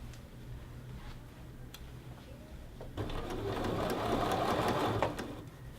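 After a quiet stretch with faint ticks, a sewing machine runs for about two seconds, edge stitching a men's shirt collar band, its rapid needle chatter close and steady before stopping.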